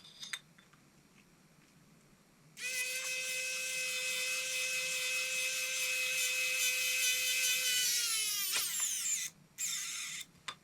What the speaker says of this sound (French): moi je vous conseille c'est de tout serrer à tournevis électrique et puis après de faire 2-3 tours à la main